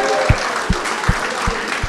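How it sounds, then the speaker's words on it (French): An audience at a French swimming federation camp meeting applauds the diver: a continuous wash of clapping, fairly close, with a few rhythmic stomps or thuds recurring roughly every 0.4 seconds beneath it. "Et le plongeur qu'on applaudit particulièrement"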